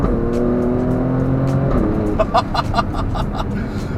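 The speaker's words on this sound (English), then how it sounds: "how many other SUVs sound like this?" An Alfa Romeo Stelvio Quadrifoglio SUV engine revs hard and accelerates, its loud rising drone punctuated by sharp exhaust pops and crackles near the end.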